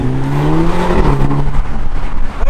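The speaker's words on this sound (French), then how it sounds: "quand tu passes les rapports, t'as les petits craquements" A 2008 Audi TTS with an automatic gearbox: a loud, close engine note holds steady and then drops in pitch at a gear change, with small crackles from the exhaust.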